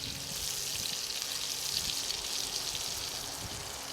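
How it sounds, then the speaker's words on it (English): Walleye fish sizzles in a pan set over a small bed of coals at an outdoor shore lunch, a steady soft hiss that runs continuously without talk. "Nice sizzle."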